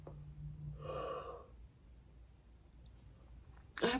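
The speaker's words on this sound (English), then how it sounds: "I apologize for all the yawns." A person yawning close to the microphone, a drawn-out breathy inhale rising into a voiced, strained stretch before trailing off into quiet breathing, then a brief sharp noise at the end.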